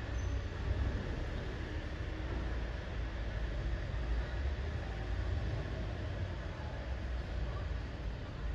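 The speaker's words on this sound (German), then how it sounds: "Und da ist der Bus an." In Lucerne's city center, a bus pulls in with a continuous low engine rumble. The rumble is fairly faint and steady, holding at a constant level for the whole stretch without any sharp events.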